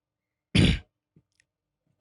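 One sharp, close cough, followed by a second cough cut off at the end, with near-silence in between.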